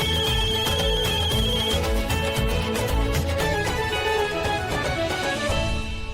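A musical phone ringtone plays on and on unanswered, loud and full, with no voices.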